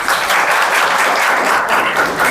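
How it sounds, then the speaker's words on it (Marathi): Sustained, loud applause from an audience at a children's singing competition, steady dense clapping filling the whole stretch without voices. "त्याच्यासाठी परत एकदा पुनश्च जोरदार टाळ्या होऊ द्या"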